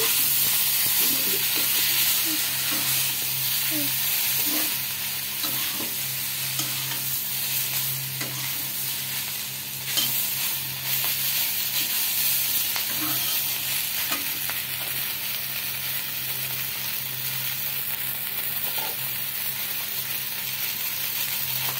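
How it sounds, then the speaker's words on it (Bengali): Drumstick leaves being mixed into mashed bharta, a Bengali mash, with a steady close scraping and stirring texture that carries a faint sizzle-like hiss throughout and no talking. "আমি এর মধ্যে সজনে পাতা মিশিয়ে নিচ্ছি।"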